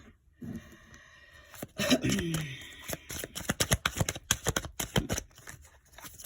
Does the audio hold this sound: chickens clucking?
no